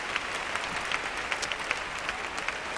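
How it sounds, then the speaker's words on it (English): Audience applause after a ballroom dance routine at the Amateur European Championships, a steady, even patter of many hands clapping at moderate distance, continuous throughout with no talk over it. "And a good reception from the crowd."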